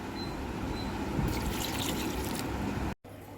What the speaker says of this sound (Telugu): కొంచెం వాటర్ పోద్దాం